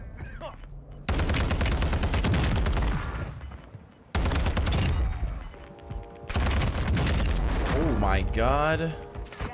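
Sustained, loud automatic gunfire from the video game Warzone 2 roars in long bursts broken by short pauses, with a voice exclaiming partway through.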